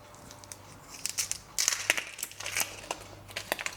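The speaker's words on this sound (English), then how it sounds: "I would say let's cut it in quarters." A kitchen knife slices a peeled onion into quarters for Belgian beef stew, giving several crisp, crunchy cuts close to the microphone with short pauses between strokes.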